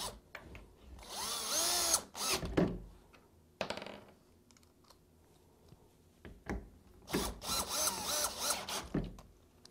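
A power drill drives screws into an AZEK Reserve rail bracket, heard as several close, loud whirring bursts of varying length separated by short pauses, with no talking.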